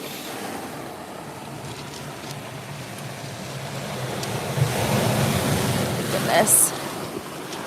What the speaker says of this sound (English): These waves scare me.